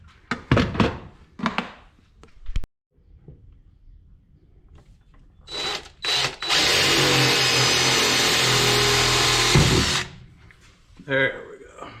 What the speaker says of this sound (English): I think I'll pre-drill it first.